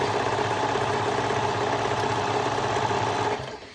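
A sewing machine stitches mesh fabric in a steady, fast mechanical whir with a rhythmic needle chatter, close and continuous, winding down near the end.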